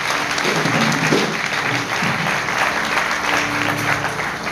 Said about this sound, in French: Donc, applaudissez quand même.